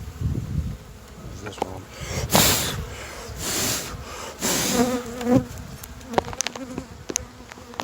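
Bees buzz loudly and close throughout while hive frames are handled during honey extraction, with swelling bursts of wings, rustling handling noises and a brief spoken remark.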